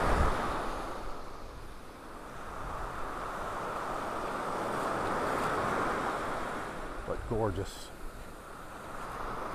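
Rough surf rolls steadily onto a beach in North Naples, Florida, with wind buffeting the microphone throughout; a single voice speaks briefly near the end.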